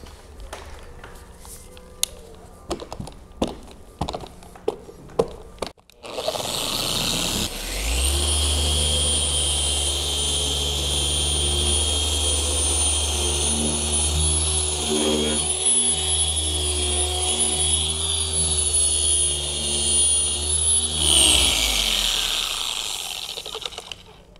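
Car paint polisher on its high speed setting while removing swirls and scratches, a loud steady whine that runs for about fifteen seconds after some scattered clicks and knocks, then winds down.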